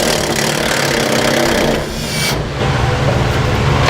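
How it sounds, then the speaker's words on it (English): A T25 Torx bit on a power driver removes heat shield bolts on a 2015 Chevrolet truck, giving a loud, continuous, gritty whirring close by with a brief dip midway. "I'm going to take a T25's Torx bit and I'm going to remove the bolts that are holding it in place"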